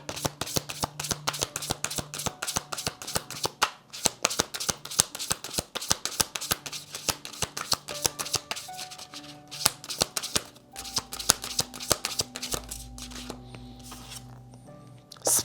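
A deck of playing cards is shuffled over and over in quick riffling bursts, close and fairly soft, with a steady crackling rhythm and brief pauses between shuffles.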